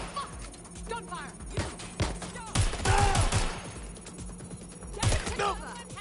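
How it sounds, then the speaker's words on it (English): Gunfire in the video game Watch Dogs: Legion, with scattered bursts of shots and thuds, a dense volley in the middle and another near the end, mixed with shouting voices. "Gunfire!"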